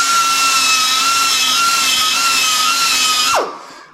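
A loud, steady whine of a power tool grinding a rubber edge on a VW T4 spare wheel carrier, holding a constant pitch for a few seconds before spinning down and fading out.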